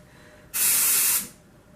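A single short blast of aerosol hairspray, a loud steady hiss lasting under a second, then quiet.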